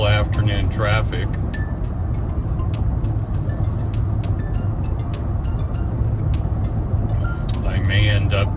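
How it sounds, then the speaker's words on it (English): Afternoon road traffic heard from inside a moving car: a steady, loud low engine and road rumble throughout, with a voice talking over it. "Typical afternoon traffic."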